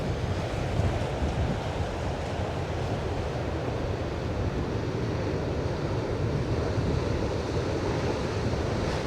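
Sea waves breaking on the shore near Sker House, Porthcawl, with a steady, loud wash of surf and wind buffeting the microphone. The roar stays continuous and no voices are heard.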